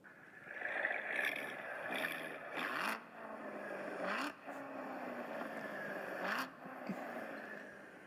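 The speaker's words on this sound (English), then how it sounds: "you can listen to the exhaust sound of any sports car." A Corvette sports car engine revving and shifting through gears, rising pitch sweeps cut by brief pauses, with raspy exhaust roar throughout.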